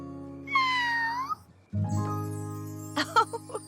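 A cartoon character's voice imitates a cat meow, a bright wavering mew, followed by a brief tinkling jingle and light voices over a steady musical background.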